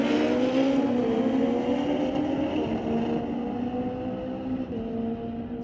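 Fast street-legal drag racing motorcycles at Mission Raceway Park roar past at high speed, a loud continuous engine howl with falling pitch as they pass and fade down the track.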